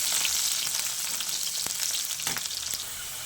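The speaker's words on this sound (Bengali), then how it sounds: "রসুন কুচিটা একটু লাল লাল করে ভেজে নেব" Chopped garlic fries in oil after cumin seeds, giving a steady, close sizzle with a few brief stirring knocks, and no voices.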